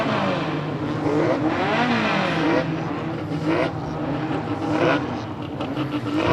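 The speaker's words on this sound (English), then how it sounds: "As we get all the cars out onto circuit there" Stock cars roll out onto a racing circuit for a parade lap, several engines droning and revving together at steady, close range throughout with a continuous busy mechanical roar.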